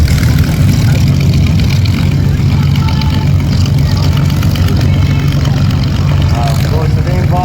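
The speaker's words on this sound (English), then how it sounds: "We've got Spitfire starting up." A Spitfire propeller aircraft's engine starts up at an air show, a loud steady rumbling drone that fills the whole stretch, with crowd and other airfield noise mixed in.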